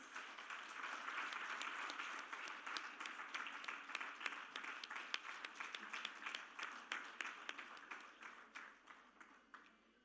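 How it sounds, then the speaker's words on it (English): Audience applause at the inaugural session of an auto industry summit, a steady wash of many hands clapping that holds for several seconds and then thins into scattered, individual claps as it fades. "Can we please have a round of applause?"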